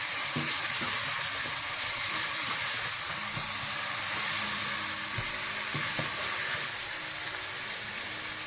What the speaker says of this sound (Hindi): नमक और केवड़ा वाटर डाल दें और इसको अच्छी तरह से मिक्स कर लें